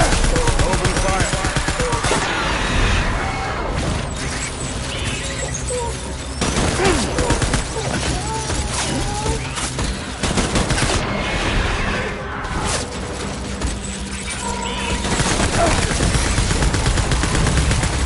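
Sustained heavy gunfire and crashing impacts fill the whole stretch, loud and continuous with bursts overlapping, with no talk.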